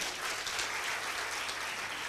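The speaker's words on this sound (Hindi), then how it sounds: "Can we please have a huge round of applause for him?" A crowd at a film music launch event claps continuously, a thick, even wash of applause from a large audience with no break or voice over it.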